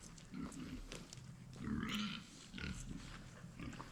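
Farm pigs grunting and snorting close by during morning chores, a steady run of short low grunts with a few higher squeals, a voice faintly mixed in.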